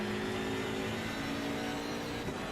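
BMW M6 race car engine in the ACC racing game at Imola, a steady mid-pitched engine drone holding an even, sustained tone at moderate level with no talk.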